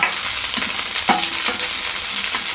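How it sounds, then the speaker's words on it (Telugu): Green chilies frying in a little oil in a pan for tiffin-center vadas, a steady close hiss with a few stirring scrapes, no talk. "ఒక చొక్క ఆయిల్ వేసేసి ఫ్రై చేస్తున్నాము"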